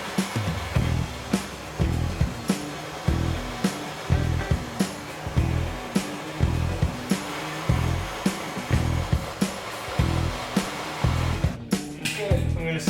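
A heat gun blows a steady airy whir while warming a headlight part on a '68 Mercury Cougar, punctuated by regular rhythmic thumps roughly every second nearby.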